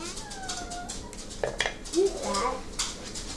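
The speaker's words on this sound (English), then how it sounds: "I'm gonna go ahead and put the peanut butter on" Knife clinks and scrapes against a peanut butter jar and bread in a home kitchen while making a child's lunch, with light clatter and a voice heard early on.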